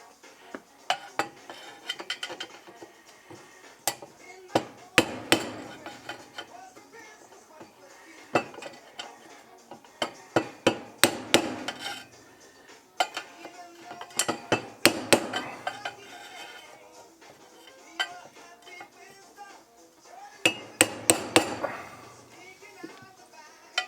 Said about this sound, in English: to get the 3 little end rivets, I'm just going to use a little piece of rod